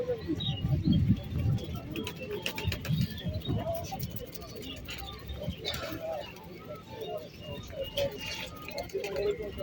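Pigeons cooing and fluttering amid chatter at a pigeon fair and show, with people talking over soft bird calls and occasional wing flaps.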